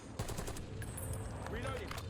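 Rapid automatic gunfire rattles in close bursts during a solo Call of Duty Warzone match on Rebirth Island, a dense run of shots filling most of the moment with a brief voice over it.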